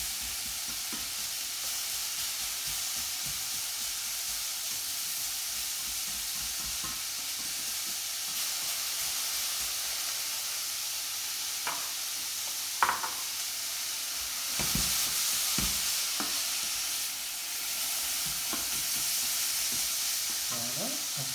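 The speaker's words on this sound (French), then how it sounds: "Je vais le faire revenir un peu. Ça devient un tout petit peu transparent les oignons" Onions sauté in a pan as the base of a fish stock, a steady close hissing sizzle throughout, with a few brief clinks and stirring scrapes partway through.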